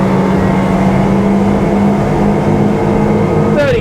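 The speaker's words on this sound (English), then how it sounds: "I'll give it some wide open throttle" An Iguana Commuter amphibious boat's engine runs at wide open throttle, a loud, steady, close droning roar that holds constant with a faint rising whine near the end.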